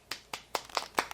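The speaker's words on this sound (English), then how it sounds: "Clapping. This is clapping." Five or six single hand claps, evenly spaced and close, crisp and moderately loud with quiet gaps between them.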